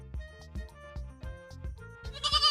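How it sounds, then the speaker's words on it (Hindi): A sheep tied up alone in a forest bleats loudly and repeatedly, in short rhythmic calls over a steady, pulsing musical background. "भेड़ अकेले की वजह से जोर जोर चिल्लाने लगा।"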